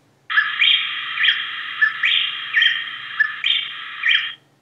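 A female wren sings alone, a repeated series of bright, high chirping phrases with short gaps between them, close and clear, no other sounds.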